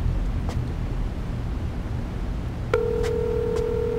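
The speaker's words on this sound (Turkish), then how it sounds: "Telefonun çalıyor." Background hum runs for a few seconds, then a phone starts ringing with a steady electronic tone that repeats, fairly close and clear.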